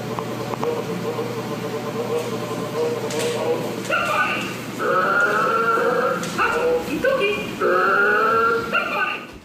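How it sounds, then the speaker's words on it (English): A child's Mickey Mouse toy makes harsh, snarling, dog-like sounds. Several drawn-out bursts rise in the second half over a constant background hum. "It almost sounds like the toy is saying somebody in between snarling."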